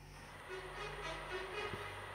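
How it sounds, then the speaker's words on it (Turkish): In the Truck Simulator Ultimate game, a truck horn sounds faintly from another convoy rig, its steady tones holding over the low hum of the cab. "Tır kornası."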